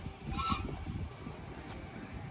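Ducks being fed at Kumarakom in Kerala give a few honking, quacking calls over a steady outdoor hum, moderately close.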